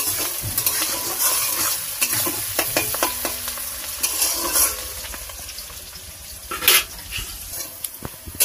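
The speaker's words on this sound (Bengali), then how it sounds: "তো পেঁয়াজটা আগে একটু লাল করে আমি ভেজে নেব।" Onions frying in a pan for a home-style chicken kosa, a steady crackling sizzle broken by repeated scraping stirs of a spatula, close and fairly loud with no talking.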